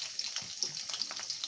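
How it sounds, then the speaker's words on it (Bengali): Green chillies and onion frying with garlic in a pan make a steady, close hiss and sizzle with light crackles running throughout, and no voices. "এরপরে দিয়ে দেব কাঁচা লঙ্কা, তারপরে দিয়ে দেব পেঁয়াজ। সবগুলো দিয়ে একটু ভেজে নেব।"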